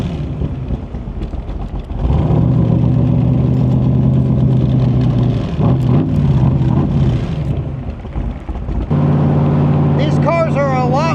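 A Backdraft Racing roadster cruises at highway speed, its engine a loud, steady drone that shifts pitch partway through, with someone talking over it.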